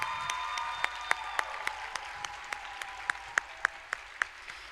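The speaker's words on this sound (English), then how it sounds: "Can everybody give Miss Allen a great big round of applause?" A faint, sparse patter of individual claps with crisp spaced hits rises from a graduation ceremony audience over a low steady hum, sounding thin and distant.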